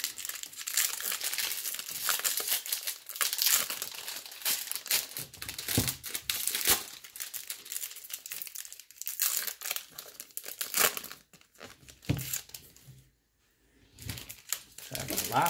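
Foil trading card packs are torn open and crinkled at a child's birthday, a busy run of close rustling, ripping and crumpling with a short pause near the end.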